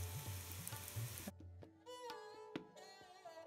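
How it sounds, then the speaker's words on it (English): Spices fry in oil in a pan for a vegan tikka masala gravy, a close crackling sizzle with spattering pops and a bit of clinking stirring. "Oof, I love that sizzle."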